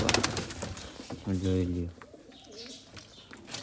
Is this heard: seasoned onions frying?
no